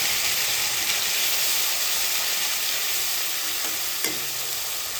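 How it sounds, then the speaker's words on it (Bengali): Bay leaf, garam masala and cumin sizzle in hot oil left from frying fish for a doi katla curry, a steady loud crackling hiss running throughout with a small clink near the end. "মাছ ভাজা তেলের মধ্যে আমরা ফোড়ন দিয়ে দেব একটা তেজপাতা গরম মশলা আর কিছু জিরে"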